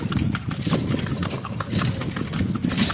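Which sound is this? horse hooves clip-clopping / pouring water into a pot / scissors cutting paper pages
horse hooves clip-clopping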